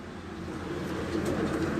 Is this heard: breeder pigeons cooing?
yes